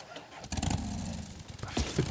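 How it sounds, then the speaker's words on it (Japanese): A motorcycle engine in the Days Gone video game, starting and revving nearby with a rough sputtering rumble for about two seconds, fairly quiet overall with a voice faintly mixed in. "こんなバイクうるさいからね。"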